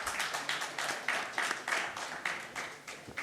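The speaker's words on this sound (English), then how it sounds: "A round of applause, please" Audience applause at an India Ideas Summit session on India's energy transition, a few pairs of hands clapping in a loose, rhythmic pattern of distinct beats, moderately close and sparse, with no talk over it.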